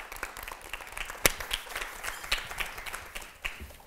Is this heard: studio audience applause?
yes